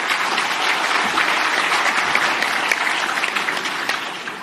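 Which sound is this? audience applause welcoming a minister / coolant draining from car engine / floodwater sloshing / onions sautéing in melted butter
audience applause welcoming a minister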